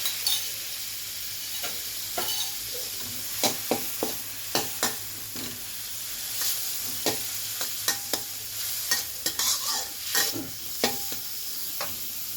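Pork stir-frying in a wok with holy basil and chili for pad kaprao, a steady sizzle broken by sharp, repeated scrapes and clacks of the spatula at close range, no talking.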